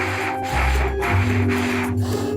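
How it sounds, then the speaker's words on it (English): Heavy, rhythmic breathing close to the mic, each loud breath separated by a short pause, with a low rumble underneath and no talking. "chill with all the heavy breathing"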